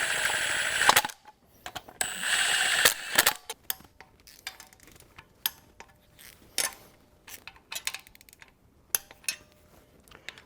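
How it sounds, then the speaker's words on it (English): An impact gun snugs bracket bolts on an LS engine in a 1957 Chevy Bel Air, firing in two loud, rattling bursts near the start, followed by scattered metallic clicks and clanks. "So I'm going to use my gun to get them in snug"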